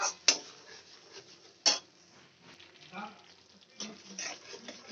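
Utensil scraping and stirring potol bora curry in a wok over a low flame, with a couple of sharp clinks against the pan and soft intermittent scraping and faint sizzle, close and fairly quiet.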